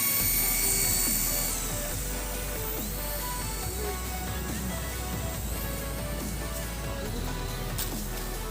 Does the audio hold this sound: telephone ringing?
no